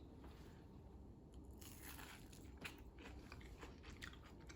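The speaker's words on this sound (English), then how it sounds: "you probably hear a crunch." Biting into a homemade potato pancake, a latke, gives soft, close crunches and chewing crackles, a few faint bursts spread over a few seconds with no talk.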